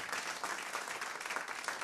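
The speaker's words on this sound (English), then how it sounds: "Give them a big applaud as well, would you?" Audience applause fills a live concert at Blue Frog Studios, a dense, steady wash of many hands clapping close by, with no talk over it.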